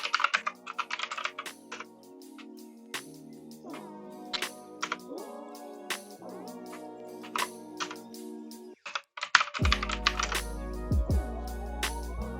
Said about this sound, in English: You may be able to hear my keyboard. So at home I use a blue switch mechanical keyboard